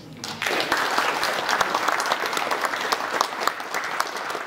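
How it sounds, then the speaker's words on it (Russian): Audience applause at the opening of a regional school olympiad in history, a dense, steady round of clapping from a large hall crowd that starts abruptly and continues loudly throughout. "Хлопаем."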